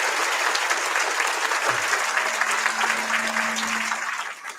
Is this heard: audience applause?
yes